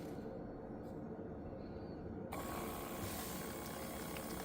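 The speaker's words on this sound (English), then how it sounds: "It is currently printing away." A Bagana wireless Bluetooth thermal tattoo stencil printer feeds a sheet while printing a test page, giving a quiet mechanical whir that turns into a brighter, steady feed noise halfway through.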